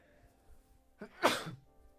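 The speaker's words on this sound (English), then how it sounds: "Had to sneeze." A single sharp sneeze bursts out after a short breathy intake, loud against near silence.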